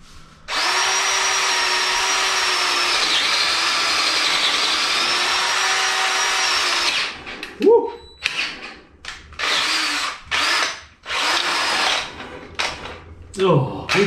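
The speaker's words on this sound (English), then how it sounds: "So I'll whiz through with the drill." A cordless drill bores steadily through a steel frame for a 7.25-inch gauge steam locomotive, loud and close for several seconds, then stalls into short uneven bursts as the battery fades.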